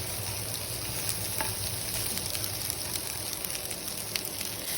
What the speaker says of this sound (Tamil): இப்போ இது கூட நம்ம வெட்டி வச்சுருக்க ஆனியன், கேப்சிகம் எல்லாம் சேர்த்து அந்த பட்டர் கூட நல்லா சாட்டே பண்ண போகிறோம்.